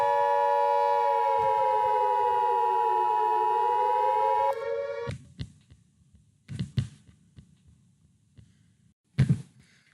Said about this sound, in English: So you can get an idea of how loud that siren is and how much scarier it makes it.